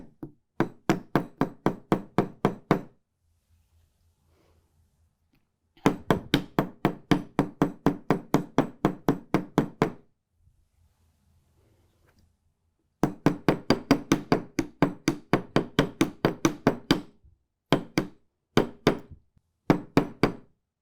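Jewelry wire being flattened with a hammer on a bench block: rapid bursts of sharp metallic taps, close and loud, in several runs of a dozen or more strikes separated by short quiet gaps.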